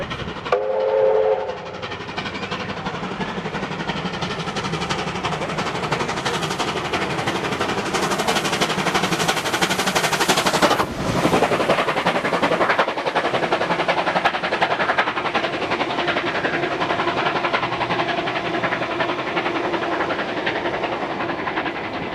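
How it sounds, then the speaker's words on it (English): Steam locomotive 3801 passes Loftus Station in New South Wales: a loud, close approach with a whistle blast, the chuffing and rumble of the engine, then the steady clatter of carriages rolling by. "We see 3801 passing us at Loftus Station after picking up booked passengers at Sutherland"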